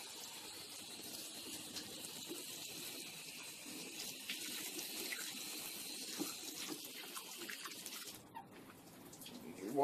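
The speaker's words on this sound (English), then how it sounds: "Now you wash the fish off." Running tap water splashes over a cleaned crappie fish in a sink, a steady soft hiss and gush with light spattering, fairly quiet and close.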